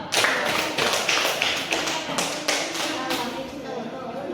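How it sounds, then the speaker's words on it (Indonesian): A classroom claps for a student group, a burst of quick irregular hand claps from a small crowd, fairly close, with voices mixed in under the clapping. "tepuk tangan untuk kelompok 2"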